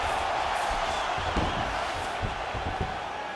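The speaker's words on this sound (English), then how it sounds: "huge pop from the crowd as the fighters get back up to their feet" Arena crowd in the UFC 5 video game letting out a steady roaring cheer as fighters rise from the ground, loud and continuous with a few dull thuds underneath.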